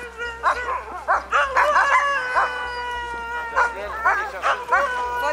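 Sled dogs barking, yipping and whining in excited bursts before a dog-sled ride sets off, several animals close by with overlapping high-pitched cries, and a person speaks among them.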